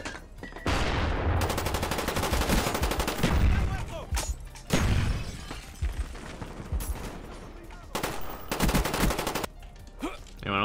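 Rapid automatic gunfire from Call of Duty: Black Ops on Xbox 360, loud bursts of shots in quick succession with short gaps, mixed with game sound effects.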